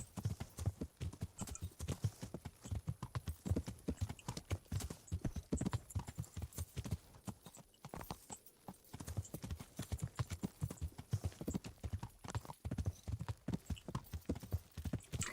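Steady, rapid clip-clop of horse hooves trotting continuously throughout in the video game Kingdom Come: Deliverance, close and clear, with no talking.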